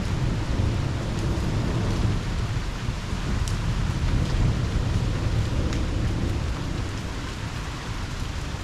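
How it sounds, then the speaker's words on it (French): Heavy rain pours during an electrical thunderstorm over Liège, Belgium, a dense, continuous hiss of falling water with a low rumbling undertone, steady throughout and with no voices. "Ah ben ça pleut bien."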